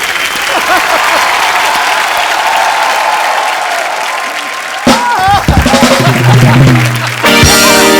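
A studio audience at a comedy show applauds with loud, sustained clapping that fills the room. Near the end, voices and music rise over the clapping.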